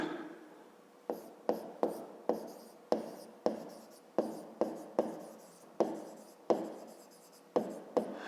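A pen scratches across paper during a fifth-grade math lesson: a quiet, close series of about fourteen short strokes, each starting sharply and trailing off, in an uneven rhythm with no talking.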